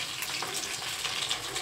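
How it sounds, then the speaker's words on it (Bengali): Fish frying in a pan gives off a steady, close sizzle and hiss that holds at an even level through the short moment, with no voices. "আর এখানটায় হচ্ছে মাছ ভাজা"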